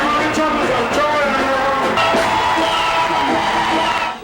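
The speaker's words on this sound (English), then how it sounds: "Big crowd this year at Jam World." A big, dense crowd cheers, whoops and yells throughout at the Sting 2002 stage show at Jam World in Jamaica, the roar steady and loud with scattered high shouts over it.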